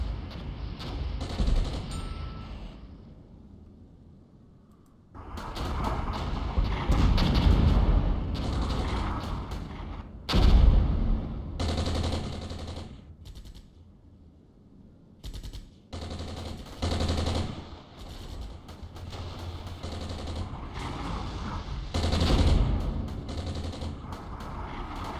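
Gunfire exchange in the wargame Armored Brigade, with bursts of machine-gun fire and single shots in irregular clusters separated by brief lulls, some volleys heavier and louder than others, no talk.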